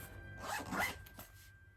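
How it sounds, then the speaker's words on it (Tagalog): A zipper on a gift bag is drawn closed in one quick, close rasping pull, followed by a short softer tail, with no talking over it. "Tapos na yung zipper."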